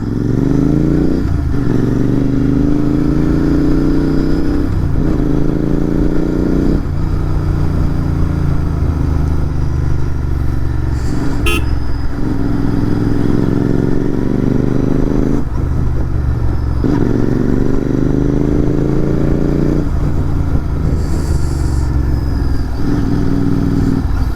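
A Royal Enfield Continental GT650 twin engine thrums loudly and steadily nearby while riding, its exhaust note rising and falling in repeated revving swells with a brief clatter partway through.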